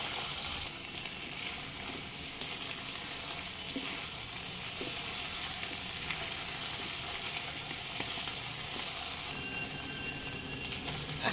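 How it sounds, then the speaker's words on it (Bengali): Chilli fish in its sauce sizzles steadily over a high flame while being stirred, a continuous crackling fry with faint scraping, close and even in level throughout. "সেই সসগুলো দিয়ে দেব সব। হাই ফ্লেমে একটু মিশিয়ে দেব।"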